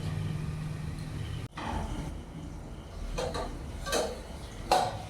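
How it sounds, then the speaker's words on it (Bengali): A metal lid set onto a cooking pot of jackfruit curry gives a single sharp clank, followed by a few lighter kitchen knocks and clatters. "আবার আমি কিছুক্ষণের জন্য ঢাকা দিয়ে দেবো।"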